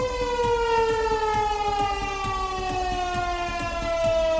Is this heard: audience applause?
no